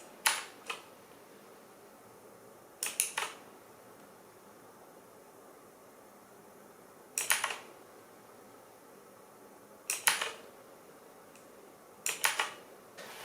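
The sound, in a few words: key presses on Aukey KM-G12 mechanical RGB keyboard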